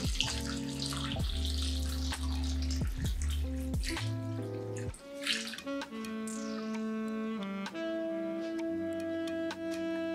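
Tap water runs and splashes over raw short ribs being drained and rinsed in a kitchen sink, a steady close stream with drips and shifting clinks, and no voices.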